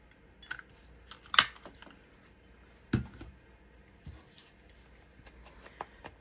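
Scissors cutting scrapbook paper and cardstock scraps at a craft desk, a few faint scattered snips and paper rustles close by, quiet with no talking.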